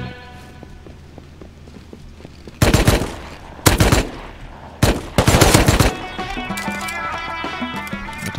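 Tommy gun firing in Rust, three loud bursts of rapid automatic fire, the last the longest, breaking up quieter ambient game sounds.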